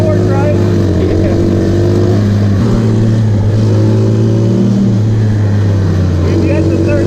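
A 125cc mini jeep engine buzzes loudly and close while driving, its pitch climbing and dropping through gear changes as the throttle is worked.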